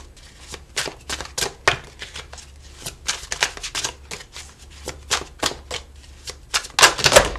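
A deck of tarot cards is shuffled by hand in quick, repeated riffling bursts, close and crisp, with short pauses between passes.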